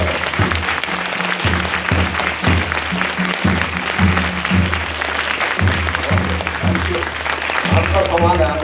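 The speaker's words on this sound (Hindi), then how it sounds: "आपको अगर अच्छा लगा तो तालियां।" Audience applause at the opening of a state-level children's science festival in Gopeshwar, Chamoli: steady, dense clapping filling the room, with voices murmuring underneath throughout.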